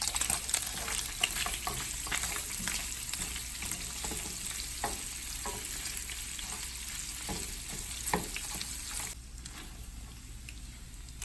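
Pork ribs seasoned with black pepper and seasoning salt fry in a pan with a steady, dense sizzle and crackle that continues throughout and eases slightly near the end, with no voices.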